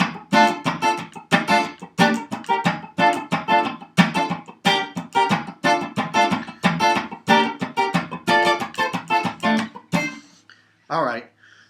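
An electric guitar plays the rhythm part of a song in choppy, tightly muted strums with bouncy, evenly spaced accents. It is close and bright, then breaks off near the end before one short final burst.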